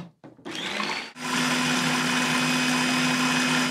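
A blender whirring tahini with lemon juice, yogurt and garlic, starting after a few short bumps and clicks, then a loud, steady motor drone that runs on without a break.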